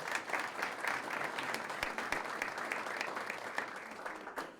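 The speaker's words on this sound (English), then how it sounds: "Let's give them a round of applause." Audience at a legislative breakfast applauding, a continuous even patter of many hands clapping with a few sharper individual claps, moderately distant and steady for several seconds without speech.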